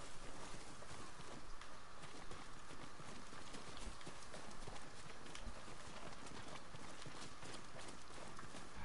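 Horse hooves clip-clop steadily at a walking pace in a video game, a continuous rhythmic clatter over dense game ambience.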